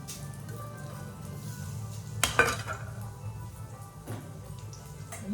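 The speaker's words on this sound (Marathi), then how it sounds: "तर बघा, आता मी कांदा हे टाकून घेते." Chopped onion tipped into a pan on a home kitchen stove and stirred, giving a sharp clatter of metal and utensil against the pan, then softer scraping and clinks at close range over a steady low hum.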